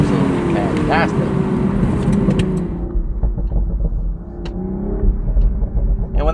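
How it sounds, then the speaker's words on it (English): Engine and exhaust of a 2024 BMW Z4 M40i roadster with an 8HP automatic, a steady deep rumble with a few rising revs. Someone talks over it throughout; distinct pops and cracks are not clear. "It also makes a lot of burbles, cracks, and pops. The exhaust note is absolutely fantastic."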